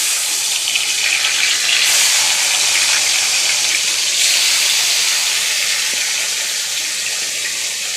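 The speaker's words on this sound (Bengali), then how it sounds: "এগুলো ভেজে নিই কটা।" Food fries in a pan with a loud, close, continuous hiss that barely changes over several seconds, with no one speaking.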